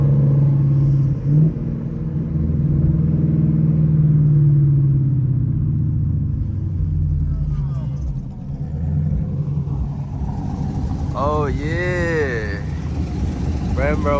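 A deep 2014 Chevrolet Camaro SS engine rumbles steadily and revs up near the end during a city drive, with muffled voices talking over the low drone.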